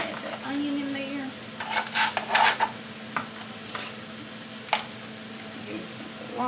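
Onion frying in a pan gives a low, steady sizzle with scraping stir strokes and a few sharp utensil clinks, and a voice speaks briefly over the cooking.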